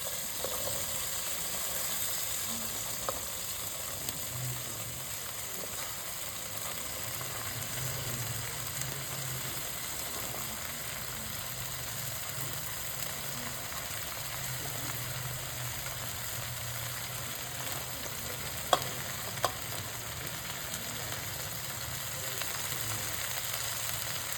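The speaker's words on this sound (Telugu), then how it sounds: "మనం ముందుగా కట్ చేసి పెట్టుకున్నాం కదా బెండకాయ ముక్కల్ని, వాటిని నేను ఇప్పుడు ఇందులో యాడ్ చేసుకుంటున్నాను." Cut okra pieces fry in hot tempering oil for bhindi fry, a steady close sizzle that carries on evenly throughout, with faint stirring clicks now and then and no speech.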